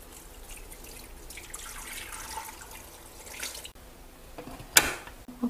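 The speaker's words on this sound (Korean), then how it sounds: "물 1L를 부어줄게요." A litre of water pours onto 500 g of soybeans wrapped in cheesecloth inside a pressure cooker, a close, continuous gush that gives way to a few drips and a sharp clink.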